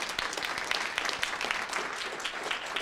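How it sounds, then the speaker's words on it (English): An audience at an evening awards ceremony claps for adult learners standing among them, giving a sustained, moderately distant round of applause with scattered crisp hand claps. "let's give it our first round of applause for them"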